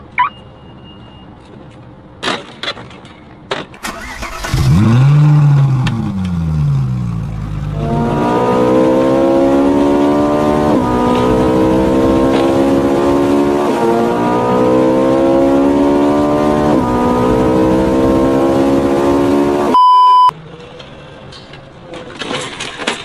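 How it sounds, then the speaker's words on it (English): A small cart engine revs up and holds a high, whining drone while the cart tries to drift and spin donuts, loud and close, with a rising whoop near the start and a sharp stop at the end. "I'm gonna try and fucking do donuts. Drift in the cart. It don't work. Not enough torque, bro."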